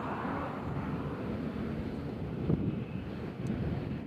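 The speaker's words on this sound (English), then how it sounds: "We got Southwest coming in from Knoxville." A Southwest airliner arriving from Knoxville approaches Nashville International Airport as a broad, continuous jet roar heard from a distance outdoors, mixed with wind buffeting on the microphone.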